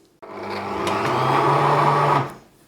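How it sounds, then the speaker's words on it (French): A kitchen blender whirs on low speed for about two seconds, mixing ingredients for a vegan, sugar-free, dairy-free ice cream, starting abruptly, droning steadily up close and then winding down. "Et là, je vais mixer. Mais je vais mixer doucement."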